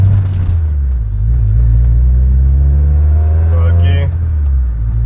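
Steady low engine rumble from a VW Mk2 Golf GTI 16v fitted with a swapped TDI diesel as it pulls away in first gear, with a rising whine near the end; talk runs over the engine.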